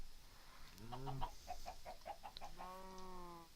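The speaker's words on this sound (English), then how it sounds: "There's his chicken in the tree" A chicken in a Minecraft-style video game clucks in a quick series of short, close, clear calls.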